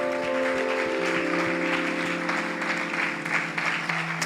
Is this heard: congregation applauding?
yes